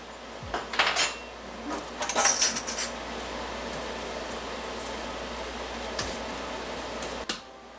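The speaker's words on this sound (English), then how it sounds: "Then we're gonna stir it up." A spoon stirs a white bean and cabbage stew in a large pot, making a few close metallic clanks and scrapes in two short bursts. Quieter single knocks follow over a faint steady hiss.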